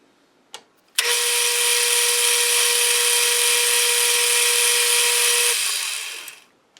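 Aluminum stock being chamfered on a metal lathe: a steady, loud cutting whine with a sustained tonal ring runs about four and a half seconds, starting abruptly after a brief tap and fading out at the end.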